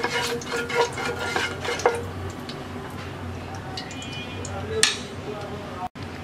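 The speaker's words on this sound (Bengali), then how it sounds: "এবার এই মশলাটা একটু ভেজে নেব।" Dried red chillies and half a teaspoon of panch phoron spice blend frying in hot oil for a Bengali eggplant-in-yogurt dish, a soft crackle with clinks and scrapes of a utensil against the pan, under a voice.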